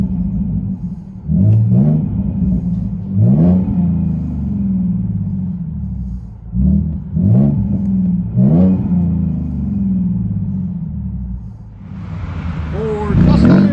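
A 2016 Ford Mustang 3.7L V6 with dual exhaust, a muffler delete and a six-speed manual revs repeatedly from idle, several sharp rising blips over a steady rumbling idle, with a brief burst of noise at the end.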